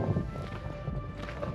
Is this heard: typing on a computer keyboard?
no